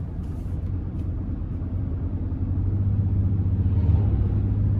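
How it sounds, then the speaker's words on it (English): Inside a 2024 Toyota Tundra Limited Nightshade with the i-Force MAX engine, a low, steady engine and road drone fills the cabin while driving, swelling slightly louder partway through as the truck pulls. "like the turbo blow off sound and all that"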